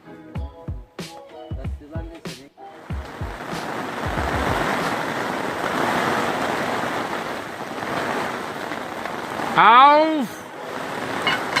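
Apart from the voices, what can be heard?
hail starting to fall outdoors at winter camp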